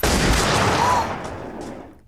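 A firing squad's volley in the film John Wick: Chapter 4 sounds as one loud, reverberant blast that rolls off and fades over about a second, with no voices.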